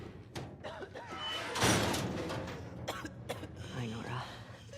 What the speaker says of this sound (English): Nora's coughing counts as dialogue as well